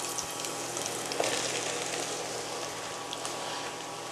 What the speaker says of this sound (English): after about 30 seconds or so, we will add our mushrooms to this